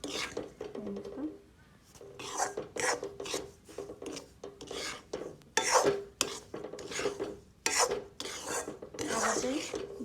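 Semolina for halwa, roasted over a high flame and stirred in a pan, gives repeated close scraping strokes in uneven bursts with brief pauses between them.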